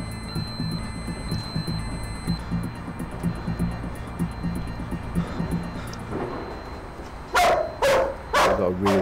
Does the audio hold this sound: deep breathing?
no